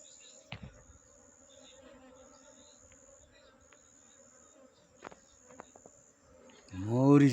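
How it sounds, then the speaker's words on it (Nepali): A honeybee swarm being moved into a new hive makes a steady, close insect buzz with a few clicks and knocks. A loud rising burst comes near the end. "मौरी चाहिँ यसरी सार्नुपर्छ है साथीहरू"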